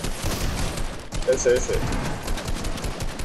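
Gunshots close by in Fortnite, a steady stream of rapid shots and bursts running throughout, heard under a player's voice.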